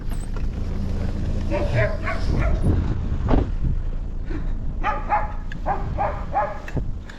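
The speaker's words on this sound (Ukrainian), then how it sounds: "Собаки гавкають." Several dogs bark and yip nearby in short bursts, with a person talking over them at times.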